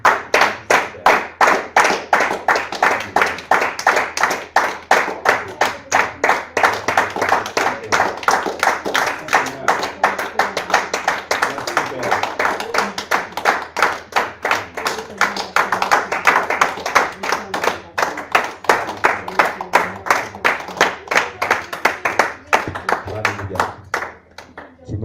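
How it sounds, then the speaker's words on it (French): A church congregation claps in a fast, steady rhythm for a long stretch, dense and close, with voices calling and singing over the clapping. "Est-ce que nous pouvons encore acclamer pour lui ensemble parce qu'il est digne et"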